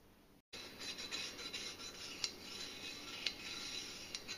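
A blade drawn across a coarse sharpening stone: faint, steady rasping strokes close by, starting after a brief silence, with a few sharper scrapes.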